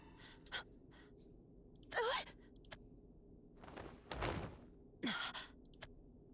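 Pained gasps and sighing breaths from a character in the video game Shadowverse Worlds Beyond, several short strained exhalations spread across the clip over a low ambient bed, moderately close.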